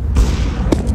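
A grenade in the Counter-Strike: Global Offensive game goes off as a short, heavy boom close by, followed by a second brief thump.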